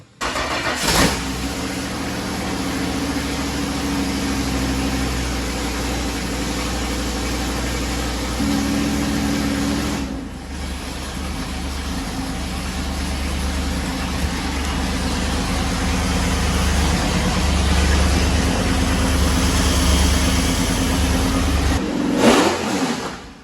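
A cheap jet boat's engine fires up and runs, a loud continuous mid-pitched roar that rises and revs up and down, dropping briefly before surging again, with a short clatter near the end.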